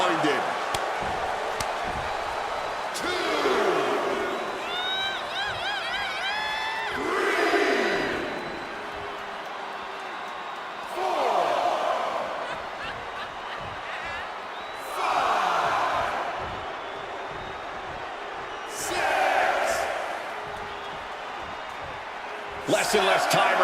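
A virtual wrestling arena crowd in WWE 2K26 roars in repeated waves, each swelling and falling every few seconds around thuds and slams in the ring as a wrestler rallies the fans.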